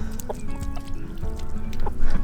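Wet chickens in a goat field clucking in short, scattered bursts over a steady low hum and background noise, with no clear talking.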